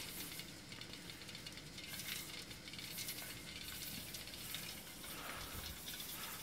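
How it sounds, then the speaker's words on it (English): Faint steady hissing of escaping steam from a soda can steam engine, mixed with light rattling and bubbling, with small clicks scattered throughout. "See the steam coming out up there? You can even hear it."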